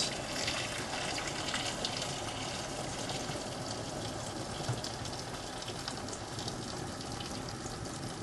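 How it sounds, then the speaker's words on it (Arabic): Boiling water rushes from a pot over potatoes in a pan, a steady, close gushing splash that runs without a break for about eight seconds, with no voices. "و كده المية غليت، نقوم دلقينها على البطاطس."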